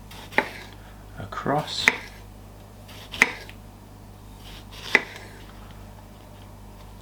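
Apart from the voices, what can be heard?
knife slicing tomatoes on a cutting board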